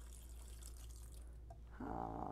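Water pours from a watering can into a plant tray, starting partway through as a steady close trickle after a faint low hum.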